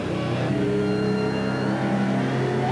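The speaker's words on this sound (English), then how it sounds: "Miller Genuine Draft Rusty Wallace stock car." Miller Genuine Draft stock car driven by Rusty Wallace, a steady engine drone with sustained harmonic tones through the whole stretch, loud and close with no pauses.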